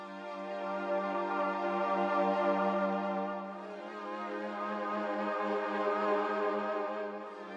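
A sustained synth from the CS80 Youth preset holds a soft, evenly pulsing tone in a slow arpeggiated pattern, faint and smooth, swelling and dipping slightly across the bars.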